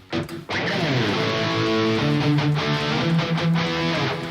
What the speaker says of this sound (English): It's the sound of a mic'd amp and cabinet.